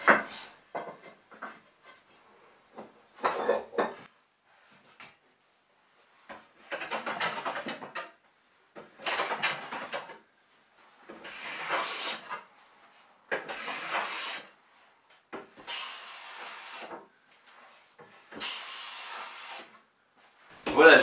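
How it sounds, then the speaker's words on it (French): Two faces of a wooden block are planed while making wooden clamps: repeated bursts of scraping, shearing strokes come in an irregular rhythm, each stroke loud and close, separated by short pauses. "donc on va raboter ces deux faces pour avoir mon bloc aux bonnes dimensions"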